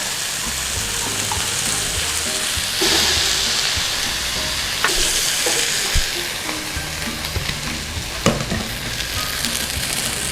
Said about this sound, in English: Just give this a stir around.